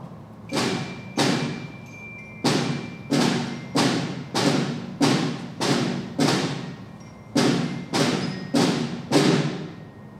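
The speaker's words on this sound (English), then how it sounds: "That was our percussion section feature." A fifth-grade band's percussion section plays at a concert in a repeated pattern of loud, booming strikes with ringing decays, arranged in spaced groups of hits, with no talking.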